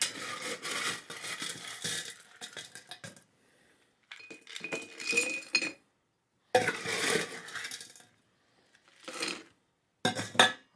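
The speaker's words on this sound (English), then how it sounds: "We're going to fill it about halfway with ice." Ice cubes clatter and clink into a glass in several bursts, with brief quiet pauses between pours, close and fairly loud.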